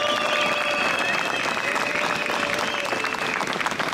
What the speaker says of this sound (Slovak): Veľký potlesk pre vás všetkých.